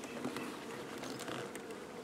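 Honey bees hum faintly and continuously in a robbed, failing hive, a soft close buzz with no other sounds.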